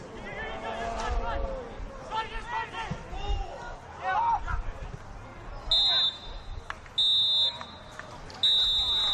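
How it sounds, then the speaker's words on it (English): A referee's wristwatch alarm sounds at the end of a South Australian football match, Adelaide Croatia Raiders against Adelaide Comets, as three loud, steady electronic beeps over crowd babble and a commentator's voice. "And the referee, Christian Verdicchio, his little alarm has gone off on his watch there to tell him that that's the end of the game"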